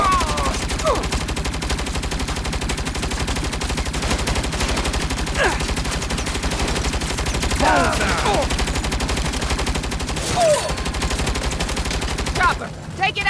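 A vehicle-mounted turret in the video game Saints Row fires long rapid bursts of gunfire, loud and steady, over engine rumble, with short shouted voice lines breaking in.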